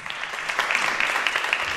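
At a school lamp lighting ceremony, an audience in a hall claps in a steady, fairly light round of applause with quick, crisp hand claps.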